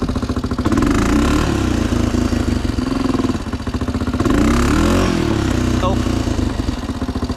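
A Honda 500 motorcycle engine revs hard and steadily near the rider during a wheelie attempt, its loud buzzing drone rising and falling twice, with a voice talking over it.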